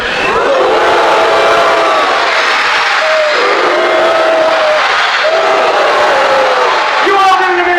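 A theme-park stunt show audience, split into halves by an announcer, shouts long sustained oohs and aahs in turns, loud and close, the massed voices rising and falling in waves under a rainy outdoor wash.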